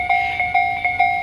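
Tobu Railway trains running through a busy level crossing in Kasukabe, with a steady two-tone crossing bell pulsing in regular strokes, loud and close, and no voices.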